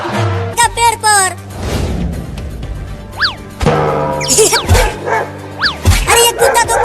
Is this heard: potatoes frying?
no